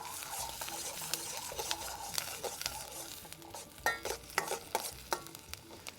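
A Birmingham-style Balti curry fries over high flame in a pan, with a steady loud sizzle and a busy scrape of stirring that turns into sharper, irregular clatters and scrapes toward the end.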